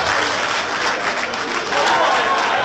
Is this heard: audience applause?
yes